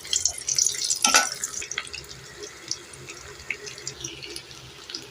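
Marinated chicken pieces crackle in hot oil in a kadai, a loud burst of sizzling at first that eases into lighter, uneven spitting and bubbling.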